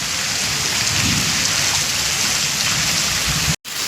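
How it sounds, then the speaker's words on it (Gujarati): Heavy rain pours down in a dense, unbroken roar, loud and close, with a brief drop-out near the end. "બહુ વરસાદ પડી ગયો છે"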